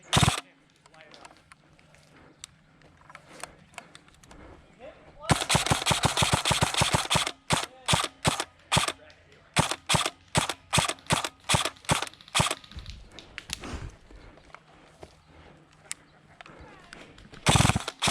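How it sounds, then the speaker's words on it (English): Airsoft guns firing during a capture-the-flag game at Bluehole Airsoft, with rapid sharp cracking bursts and volleys of snappy shots, some close and loud, scattered across the field with brief gaps. "Lay down fire."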